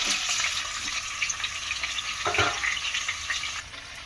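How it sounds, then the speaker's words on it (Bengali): Cut paneer pieces fry in hot white oil with a steady, bright sizzle and crackle, and a few stirring clinks come through near the middle, with no speech. "কেটে রাখা পনিরটা দিয়ে দেবো তেলের মধ্যে"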